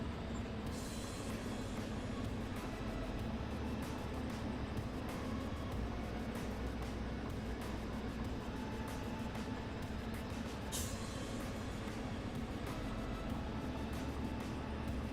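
Heavily worn locomotive in the train game Derail Valley, a continuous rumbling engine drone with steady mechanical clatter that runs throughout, moderately loud, without talking.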